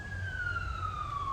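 An ambulance siren passes at a distance, a single steady wailing tone sliding slowly downward in pitch over a low rumbling background, fairly faint and with no talking.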